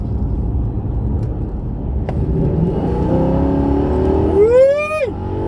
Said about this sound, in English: That is, if this doesn't rev extremely well on this straight.